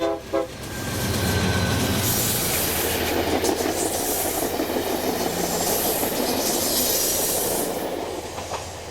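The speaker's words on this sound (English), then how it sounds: "Amtrak's Pennsylvanian gives us a toot as it passes by heading for Pittsburgh" Amtrak Pennsylvanian passenger train heading for Pittsburgh near the Allegheny Tunnel, with a brief horn toot at the start, then a loud, steady rumble and clatter of cars passing close by.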